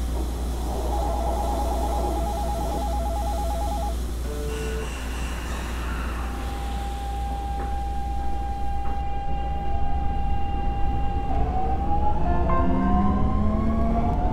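A metro train on line 15 of a simulated Cool Metro network pulls away from Gyeyangsan station, with rising electric motor whines and tonal hums over a steady low rumble as it picks up speed, with no talk.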